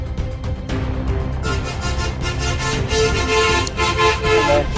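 Busy street traffic in Bangladesh: a constant engine rumble with repeated car horn toots, the honks growing denser and louder toward the end, close by and uninterrupted.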